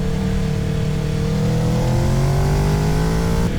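A motorcycle engine revving steadily on a race track, a loud, close, continuous drone whose pitch rises gradually as it accelerates, with no talking.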